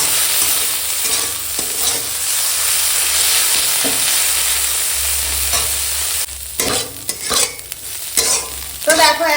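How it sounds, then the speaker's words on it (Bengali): Food sizzles steadily in a hot pan, with a spatula stirring and scraping several times toward the end. "এখন পিঁয়াজের সঙ্গে এই দুটো চিংড়িটা ভাজা হচ্ছে দেখো এরকম"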